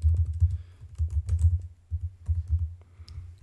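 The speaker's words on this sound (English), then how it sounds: "So below here, I'm going to type void process" Code is typed on a computer keyboard, quick close keystrokes in uneven bursts with short pauses, clattering alone with no talk.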